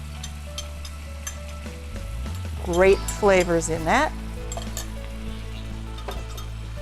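A pan sauce of stock, cream, Dijon mustard and steak sauce for Steak Diane sizzles with a steady hiss beneath a short spoken comment, a few clinks sounding along the way.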